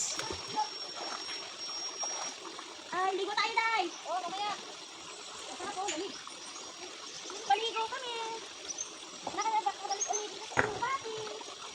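Water splashes in a cool, fresh stream as someone bathes among rocks, with intermittent splashes under close speech and a voice.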